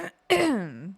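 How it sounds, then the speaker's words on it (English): A single short throat clearing: a brief rough catch, then a longer voiced rasp that slides downward. It is close and fairly loud, with no other talk. "I'm still coughing."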